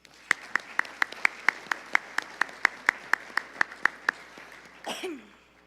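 At a Montana FFA Foundation donor recognition dinner, the audience claps in a slow, even rhythm, about twenty sharp synchronized beats, then a brief rough burst at the end.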